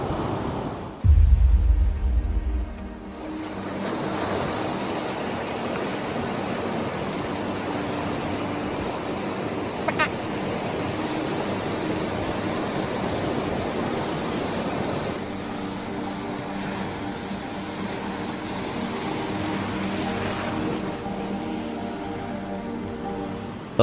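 Ocean surf surges against the coast at Sette Cama in Gabon, a continuous broad roar of breaking waves holding steady throughout, loud and close with wind noise mixed in and no voices.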